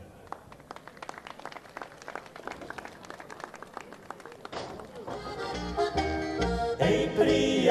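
An audience at an outdoor Martinovanje celebration in a town square claps, scattered taps giving way to fuller, louder applause mixed with crowd noise and voices near the end.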